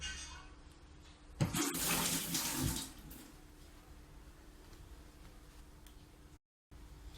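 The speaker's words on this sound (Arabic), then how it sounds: "غادي نضيف شويه ديال الماء غير باش الماكينه تحرك" Water is poured into a blender jar, making a short, splashy rush of pouring that lasts about a second and a half before quieter room noise resumes.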